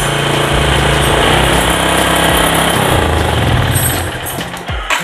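A Yamaha Jupiter MX motorcycle engine runs loud and close at a steady, buzzing idle during a fuse test for a wiring fault, then sputters and dies near the end as the fuse is pulled.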